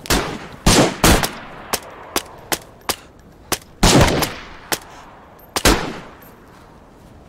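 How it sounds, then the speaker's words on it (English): Gunfire in DayZ heard as a scattered series of loud, sharp shots, some single and some in quick pairs, each with a short decaying tail, irregularly spaced over several seconds. "You guys shoot the enemy."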